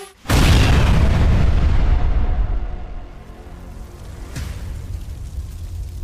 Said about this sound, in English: occurs because of the detonation of the ammunition inside